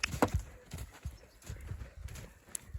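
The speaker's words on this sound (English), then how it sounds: "Come on, canter, canter." A horse cantering in a riding lesson, its hoofbeats sounding as an uneven clip-clop rhythm at close range with scattered thuds and a brief snort or whinny near the start.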